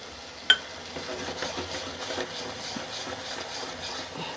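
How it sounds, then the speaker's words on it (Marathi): Shev bhaji masala is sautéed in a pan, giving a soft, low sizzle and gentle scraping of stirring, with one sharp utensil clink near the start. "1 मिनिट मी असंच परतून घेते."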